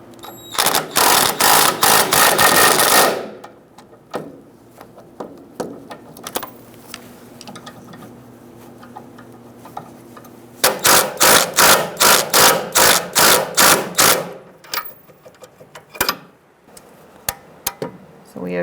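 A ratchet fitted with an 18 mm socket snugs the sway bar link nuts on a 2010-2013 Kia Soul. Two loud runs of rapid, evenly spaced clicks stand out, with scattered single clicks and clatter between them.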